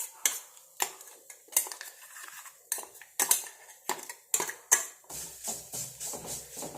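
Onions are stirred in a pan with a metal spoon, giving about a dozen crisp scrapes and clinks at a brisk, uneven pace, then a softer continuous rustle of stirring.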